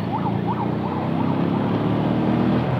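Ambulance siren wailing through congested traffic, a steady rising-and-falling electronic wail heard loud and close over a constant rumble of engines and road noise, with no talking.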